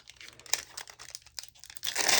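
Crinkly cellophane covering on a set of Halloween rubber stamps is handled up close, with crackling bursts that swell into steady loud rustling at the end.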